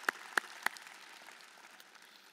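Three sharp, distinct claps from a forum audience come in quick succession, then give way to a faint, quiet room.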